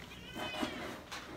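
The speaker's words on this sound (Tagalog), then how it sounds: "Ay, pusa mo, Biboy, bigyan mo ng pagkain." A house cat gives a short, close meow lasting about a second, followed by a quick second call, in a quiet indoor room with no speech over it.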